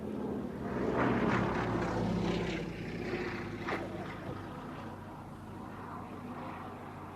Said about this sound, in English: John Webb over the motorway in the Blenheim.